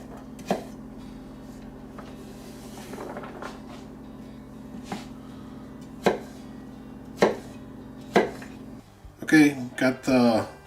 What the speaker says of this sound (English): Then we're going to just start our dicing process.